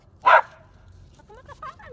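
One sharp, loud bark rings out nearby from a dog among many out on a walk, followed by softer yips while people chat.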